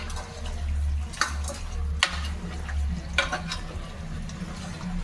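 Mutton pieces frying in a pan with a low, steady sizzle and hum, stirred now and then with a few sharp metallic scrapes and clanks against the pot, close by and without speech.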